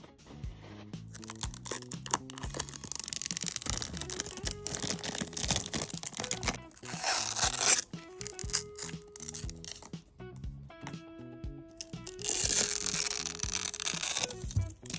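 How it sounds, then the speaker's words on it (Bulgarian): Packaging for an anti-dust-mite vacuum cleaner is unboxed at close range: crinkling, rustling and tearing of wrap and cardboard in irregular bursts, with handling knocks and no talking. "Ще я разопаковаме заедно."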